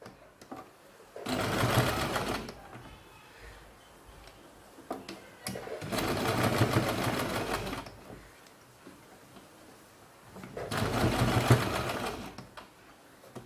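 A sewing machine stitches newborn baby pants in three separate bursts of about two seconds each, a close, loud rapid rattle, with quiet pauses between runs.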